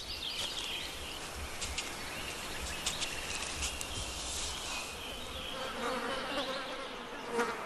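Flies buzz around stinkhorn and other fungi, a continuous close insect drone with wings whining in and out, faint background bird calls and no speech.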